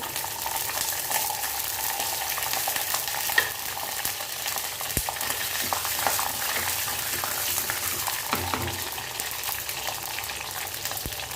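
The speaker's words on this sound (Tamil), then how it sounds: "பூண்டு நல்லா வதங்கி வரைக்கும்" Garlic cloves sautéing in hot oil with curry leaves, mustard seeds and cumin, a steady close crackling sizzle with occasional spatula stirs and small pops throughout, no voices.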